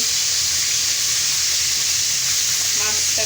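A rohu fish head fries in hot oil with turmeric and chili, making a loud, steady, hissing sizzle that fills the clip, with a faint clink near the end.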